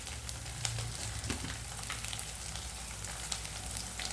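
Soaked puffed rice frying in a pan for Rayalaseema-style uggani, giving a steady, close sizzle that runs evenly through the whole stretch with no one talking.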